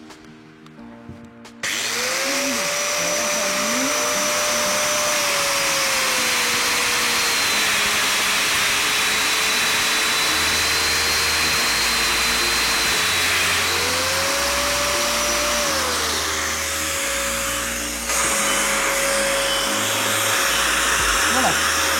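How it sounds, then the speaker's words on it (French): A Festool Domino joiner cuts a mortise with its dust extractor running: a steady loud motor whine holds throughout after a sudden start, with a pitch dip mid-way and low rumbling thumps beneath. "je vais attendre que l'aspirateur se coupe"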